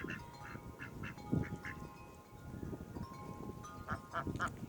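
A drake duck quacks in short raspy bursts, a few scattered calls then a quick run of several, fairly close against quiet background noise.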